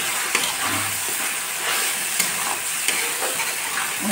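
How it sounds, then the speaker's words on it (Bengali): Spice paste frying and being stirred in a pan for a fish curry, a steady close sizzle with occasional scraping taps of the spoon. "মশলাটাকে ভাজা ভাজা করে নেব।"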